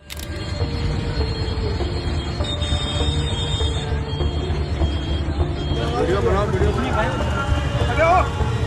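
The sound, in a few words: train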